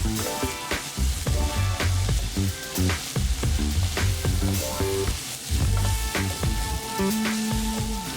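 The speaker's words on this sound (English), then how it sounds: "add in the doubanjiang and stir fry until it coats the contents of the pan" Minced meat with doubanjiang for mapo tofu stir-fries in a pan, a steady sizzle under repeated spatula knocks and scrapes, close and fairly loud, with a musical backing running throughout.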